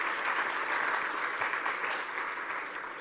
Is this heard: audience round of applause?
yes